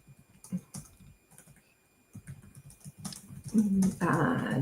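Someone types on a computer keyboard in short, uneven runs of close clicks, with pauses between them and a louder, busier patch near the end.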